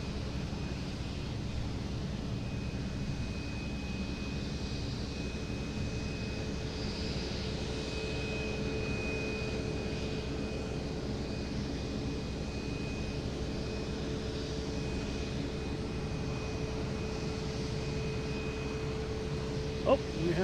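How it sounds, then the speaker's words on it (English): A JetBlue Airbus A220 arrives at Boston Logan from Martha's Vineyard, its engines a steady, moderately loud drone with a thin whine held across the whole stretch, and a voice speaking intermittently. "We got JetBlue coming in here from Martha's Vineyard,"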